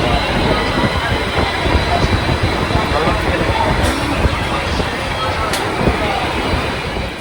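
A steady, loud rumble of a moving train heard from inside a carriage after leaving Sealdah, continuous throughout, with voices talking over it.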